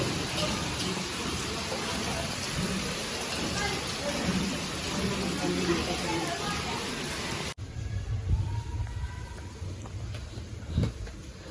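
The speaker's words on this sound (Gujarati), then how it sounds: "હજી વરસાદ એવો ને એવો છે" Steady, dense monsoon rain in Vadodara, India, hissing throughout, loud and close, with the texture shifting partway through as the rain continues beneath it.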